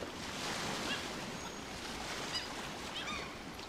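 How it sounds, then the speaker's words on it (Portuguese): Ocean surf rolls on in the video game Ancestors, a steady soft wash of waves mixed with wind, no talking. "Não acredito que é o mar lá, gente."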